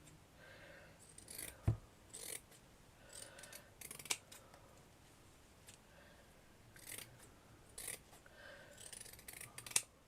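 Scissors snipping through ribbon on a craft table for French ribbon work flowers, sharp crisp cuts repeated irregularly every second or two, close and fairly quiet with no talk.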